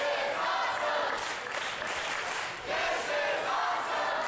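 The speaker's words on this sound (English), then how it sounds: "And listen to the crowd." Wrestling crowd roaring during a tag-team title ladder match, a loud, sustained arena wash of cheering and chanting with rising and falling swells.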